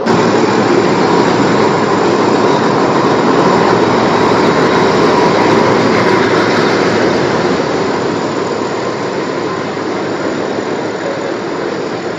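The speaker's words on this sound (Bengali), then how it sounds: "আমাদের ট্রেন কিন্তু ইতিমধ্যে শিয়ালদা স্টেশনের সাত নম্বর প্ল্যাটফর্ম থেকে ছেড়ে দিল" Express train 13187 pulls out of platform seven at Sealdah station with a loud, continuous rumble and roar that stays steady throughout, easing slightly near the end, with no voices.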